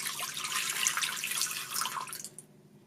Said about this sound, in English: I'll pour in 8 ounces of water